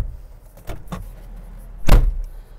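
Driver's door of a 2014 Jeep Wrangler Sahara swinging shut with a single loud, solid thud near the end, preceded by a few softer clicks and handling sounds inside the cabin.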